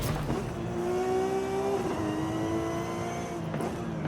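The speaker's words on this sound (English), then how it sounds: "It genuinely sounds like a full-on race car." In Forza Horizon 5, a modified Porsche with a race-car-like engine drones steadily at high revs, the tone holding and shifting slightly as the car drives on, loud and close with no talking.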